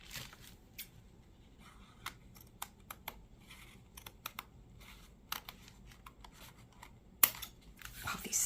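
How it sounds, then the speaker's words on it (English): Scissors snip and crunch through paper in uneven cuts, with scattered clicks and rustles, close by and fairly quiet. "Scissors are so tight."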